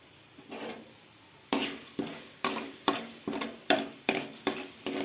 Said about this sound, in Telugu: నూనె అయితే పోసేసుకున్నా తాలింపులు వేసేసుకుంటున్నా నూనె వేడెక్కేసింది